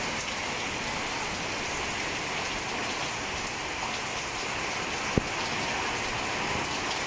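Heavy rain pours steadily during a storm in Vientiane, Laos, as an even, dense hiss of drops on surfaces with one brief sharp click partway through and no voices.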